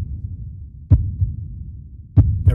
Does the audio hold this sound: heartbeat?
yes